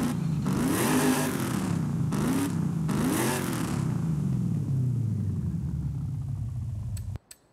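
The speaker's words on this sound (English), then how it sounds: "This is what the positive displacement supercharger sounds like." A 1996 Chevy Impala with a positive displacement supercharger in Forza Horizon 5 revs in repeated loud rising bursts with supercharger whine, then holds a steady drone before cutting off abruptly.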